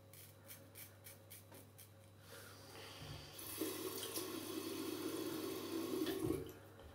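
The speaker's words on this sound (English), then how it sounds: "Added just a bit of water there." Water running from a tap into a sink during a wet shave with a Muhle R41 razor and Bluebeard's Revenge shaving cream, a steady close splashing flow that swells louder midway and cuts off near the end, with faint tapping beforehand.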